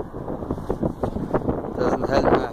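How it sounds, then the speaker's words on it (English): Gusty wind buffets the microphone at the top of a viaduct, rising and falling in rough bursts that grow stronger toward the end, with faint talk mixed in. "It's kind of gusty."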